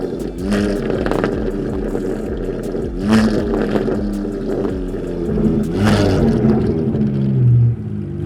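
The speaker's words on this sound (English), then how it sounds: "You guys nailed the exhaust on this" Custom V12 Ferrari 612 (612TR S-Klub) engine and exhaust revving repeatedly, loud and close, with rising and falling sweeps of pitch in several bursts and a steady engine rumble between them.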